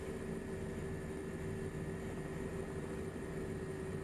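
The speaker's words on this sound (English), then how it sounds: "We're about to disturb everyone's lunch with our noisy helicopters coming through." Steady, continuous rotor and engine drone of a helicopter in flight in Microsoft Flight Simulator 2024 over New Zealand volcanic terrain, a constant even hum with no talk.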